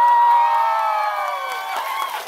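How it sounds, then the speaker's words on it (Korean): A talk-show audience of fans erupts in loud, sustained cheering and high-pitched shouts with some applause, steady at first then slowly easing. "박수 한번 주세요."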